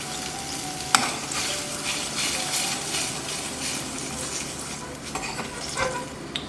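Sauce reducing in a pan for a chicken roulade, with a steady loud sizzle and bubbling, plus occasional clinks of a utensil stirring against the pan.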